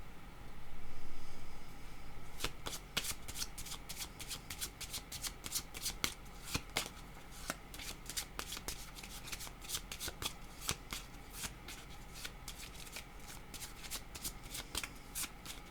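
Tarot cards being shuffled close up, a long run of quick, crisp riffling snaps repeating steadily throughout, with almost no other sound.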